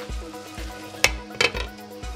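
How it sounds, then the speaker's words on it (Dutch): Carrot, courgette, pepper and parsley stir-fry in a pan with a soft, steady sizzle, broken by a few louder scraping and clinking stirs against the pan. "Het kan meer dan 5 minuten duren, want het moet bakken tot al de groenten zacht zijn."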